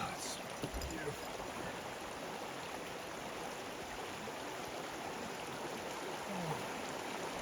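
Mountain stream on the Appalachian Trail, flowing and rushing water as a steady broadband wash close by, with a faint voice or two underneath.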